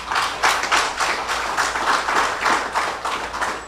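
Audience applause fills a room at the opening of a special heritage exhibition by the St. Christopher National Trust, a steady wash of many hands clapping with rhythmic swells, close and fairly loud.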